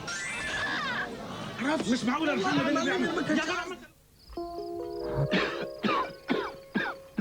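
Coughing in a 1992 British television advert for Beecham cough medicine, several harsh coughs and throat clearing amid chatter and children's voices, followed by a jingling musical tone and rhythmic hits.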